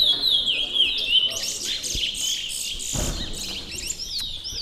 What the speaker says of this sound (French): Des notes d'oiseaux.